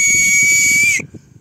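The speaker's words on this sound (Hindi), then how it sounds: "यहाँ पे जो बालू में जो मिल रहा है इसी का यूज करके सीटी बजा दिया है" A whistle made from something found in dry riverbed sand of the Ganges at Patna gives one loud, shrill, steady tone for about a second, then stops abruptly, leaving faint background murmur.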